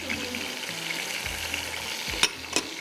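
Whole coriander seeds and cumin fry in a hot pan alongside crushed red chilli, giving a steady close sizzle with a couple of sharp clicks of a spoon near the end.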